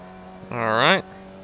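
A Formula Vee race car engine in iRacing on the New Hampshire road course revs at full throttle. A brief, buzzy whine climbs sharply in pitch for about half a second, then cuts off, heard alone.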